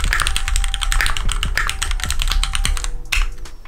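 A mechanical computer keyboard clatters under rapid continuous typing, dense crisp clicks up close with no talk.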